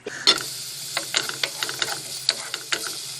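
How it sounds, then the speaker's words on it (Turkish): Chopped onions sizzle and hiss in hot oil in a pan, with a few short scraping stirs breaking through the steady frying. "Doğradığımız soğanlarımızı tavadaki yağımızı atalım ve bir miktar kavuralım."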